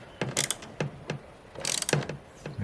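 A ratchet wrench tightens an EMP shield mount on a car in bursts of quick metallic clicks, close and fairly loud, with short pauses between strokes.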